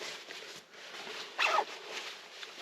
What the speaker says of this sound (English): It zips up all the way to my nose.